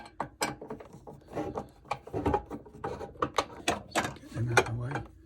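A ratchet undoes bracket bolts during a service and breakdown job, giving bursts of sharp metallic clicking and clattering with irregular pauses between strokes, close and fairly clear.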